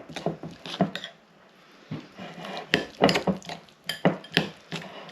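Whole grain mustard mixture being stirred together in a bowl for a pork rarebit: bursts of scraping and clinking strokes come in uneven clusters, with short pauses between them and no talking.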